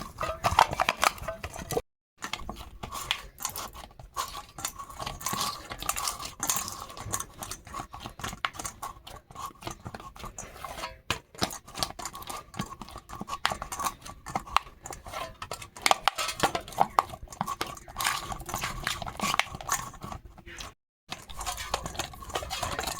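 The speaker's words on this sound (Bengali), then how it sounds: "এবার এটাকে আমি পাঁচ মিনিট ধরে এভাবে মাখবো ভালো করে" Dough is kneaded by hand for five minutes, giving a close, repeated soft slapping and pressing in an irregular rhythm with brief pauses.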